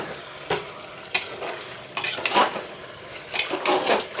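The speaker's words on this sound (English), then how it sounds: "Now the mutton is frying." Mutton sizzles in hot oil while a utensil stirs and scrapes the pan in irregular bursts, close up.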